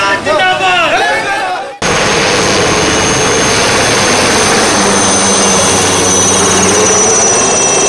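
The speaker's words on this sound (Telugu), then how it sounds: "వాయుసేన హెలికాప్టర్ ద్వారా పూల వర్షం కురిపించింది" An air force helicopter flies overhead showering flower petals, its loud, continuous rotor and engine roar filling the scene steadily after a brief stretch of voices at the start.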